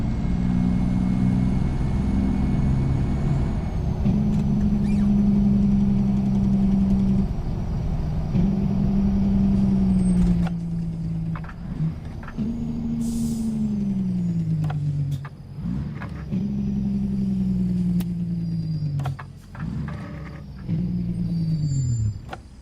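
Truck engines at a local truck show, loud and close: a long steady diesel drone, then several rising-and-falling revs and bursts of rumble in sequence, with no talk over it.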